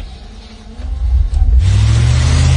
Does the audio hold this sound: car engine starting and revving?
yes